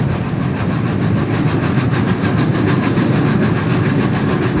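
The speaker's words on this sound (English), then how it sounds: "Tornado's staccato exhaust beats reverberate across the city." The preserved steam locomotive Tornado works hard through a city, its exhaust a dense, continuous loud rumble with rapid staccato beats close to the train and no voices over it.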